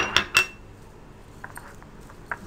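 A spoon clinks sharply against a dish twice at the start while almonds and pistachios are mixed into a sweet dish, followed by softer, scattered taps and scrapes, close and fairly quiet.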